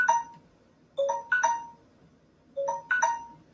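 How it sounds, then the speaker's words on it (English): Phone alarm ringing with a bright chiming melody of short bell-like notes, repeating in two phrases separated by brief pauses, clear and close with no voices. "That's my alarm."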